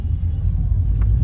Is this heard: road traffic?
yes